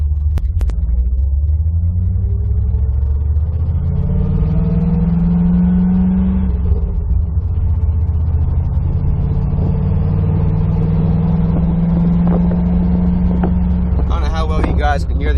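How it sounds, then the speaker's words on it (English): A C4 Corvette's exhaust rumbles close by on a drive, a deep droning note that rises and falls through shifts, with scattered sharp pops and crackles and a burst of rattling noise near the end. "You guys can hear the exhaust or the crackles and pops"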